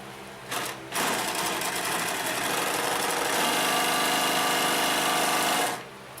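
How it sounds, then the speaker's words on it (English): A Consew 227R-2 industrial sewing machine stitches a seam through layered material in a steady, continuous mechanical run of about five seconds, starting and stopping with a brief pause at the start and no talking. "We'll put a bigger seam in here."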